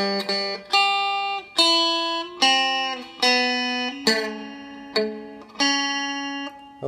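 Guitar picking out the Happy Birthday melody, one plucked note at a time in a steady, moderate rhythm, each note ringing and decaying before the next, played alone and fairly close.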